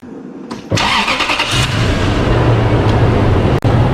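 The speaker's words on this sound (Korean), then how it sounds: "자, 이제 시동을 걸도록 하겠습니다." A Lexus LX470 Land Cruiser with engine flushing oil just added starts with a short cranking whirr, then catches into a loud, steady idle that runs on close by.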